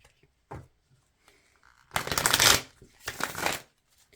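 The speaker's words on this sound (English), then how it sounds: "I'm going to give this a shuffle." Cards shuffled in a few quick riffling bursts, close and crisp, with brief pauses between them and no talking.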